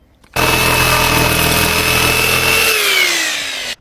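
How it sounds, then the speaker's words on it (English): A jigsaw cutting an opening in a greenhouse wall, a loud steady motor whine that runs continuously for a few seconds, then drops in pitch as it winds down and stops abruptly. "Now I'm going to get this cut out with the jigsaw."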